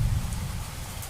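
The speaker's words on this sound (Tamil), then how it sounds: "இன்னைக்கு தான் நாகர்கோவிலில் ரொம்ப நாள் கழிச்சு மழை பெய்யுது" Steady rain pours down in Nagercoil, a dense, even wash of low rumbling patter close by with no talk over it.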